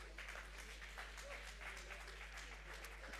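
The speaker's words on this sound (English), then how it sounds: "Give him a round of applause." An audience at a jazz festival line-up announcement claps continuously, a faint, distant patter of applause over a steady low electrical hum.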